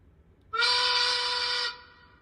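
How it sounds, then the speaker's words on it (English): A town noon whistle blows one steady, bright tone for about a second, fairly loud, then cuts off into quiet. "Another great noon whistle."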